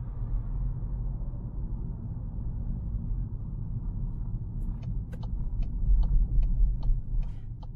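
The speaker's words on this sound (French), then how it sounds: "Oui, il y a pas mal de circulation par ici." Road traffic rumbles past a Volkswagen Golf R Line 2024 during a fuel-economy test drive, a steady low drone with faint clicking ticks near the end, no voices.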